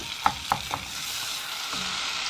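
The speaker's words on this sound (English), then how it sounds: "I'm going to mix the peanut butter and the butter together." Peanut butter and butter being stirred together in a pan over medium heat for Rice Krispies treats: a few light utensil taps near the start, then a soft, steady sizzle with no talking.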